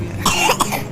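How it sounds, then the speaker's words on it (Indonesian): Two short, throaty coughs in quick succession, close by, with no talking. "Loh, kok batuk?"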